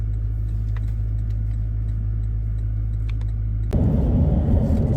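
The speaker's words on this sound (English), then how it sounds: "we just had a Toyota Land Cruiser towing a van" A Toyota Land Cruiser towing a caravan rolls past on an outback road in Purnululu National Park, Australia, a steady vehicle rumble that swells suddenly into a loud, broadband whoosh as it draws close near the end.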